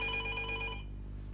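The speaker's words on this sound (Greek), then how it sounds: "Το τηλέφωνο αυτό." A telephone rings in a domestic drama scene, its bright electronic bell tone sounding steadily for under a second before fading into a low background hum.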